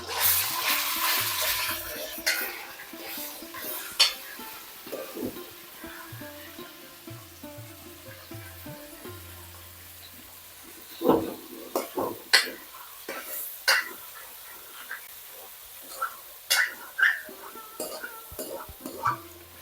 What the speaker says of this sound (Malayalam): ഇനി ഇതിലോട്ട് ഈ എടുത്ത് വെച്ചേക്കുന്ന ചിക്കൻ ഇല്ലേ ഇട്ട് കൊടുക്കാം